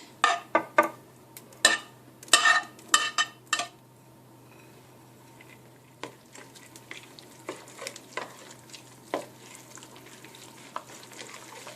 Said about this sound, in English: So the next thing we want to do is stir in the meat and the cheese